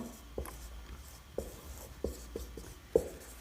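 Chalk taps and scrapes on a board as the number 400 is written, a handful of short distinct strokes, fairly quiet and alone with no talking.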